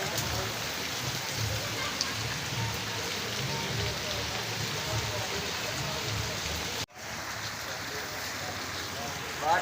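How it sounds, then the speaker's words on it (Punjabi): Heavy rain pours steadily, a dense broadband hiss of drops on surfaces that continues without letup, briefly cut off near the end before resuming. "ਬਹੁਤ ਬਾਰਿਸ਼ ਹੋਈ ਹੈ।"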